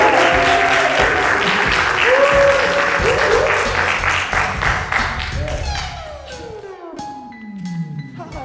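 A studio audience applauds and cheers to welcome a guest on stage, the dense clapping loud and steady before thinning out near the end as music rises and voices chatter underneath.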